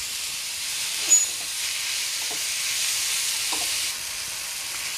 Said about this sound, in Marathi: टोमॅटो चांगला मऊ होईपर्यंत परतायचं आहे